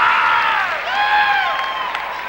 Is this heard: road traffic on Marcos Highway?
no